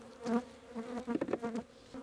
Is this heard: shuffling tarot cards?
no